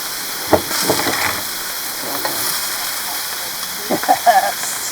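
Foraged food sears in hot ghee, a soft steady sizzle and hiss with a few louder crackling pops, while people talk briefly.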